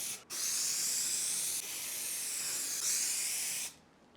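Spray 90 adhesive hissing onto fabric for van wall panels, one long steady close aerosol burst of about three and a half seconds with slight shifts in pressure, no voices.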